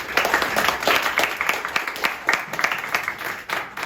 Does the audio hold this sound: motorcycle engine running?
no